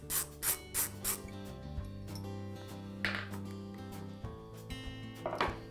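Screws come out of the jaws of a Wilton vise with a run of short, rhythmic metallic scraping bursts at first, then a few isolated rasps over a quiet hum.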